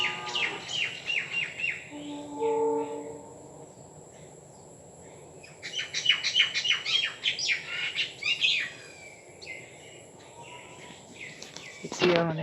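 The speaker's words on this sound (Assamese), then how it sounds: "দুটা চৰাই আহিল এটা মানে উৰি গ'ল এটা আছে" Small birds chirp outdoors in bursts of bright, rapid twitters, some close and some quieter, over a steady insect hum, with a short low sound near the start.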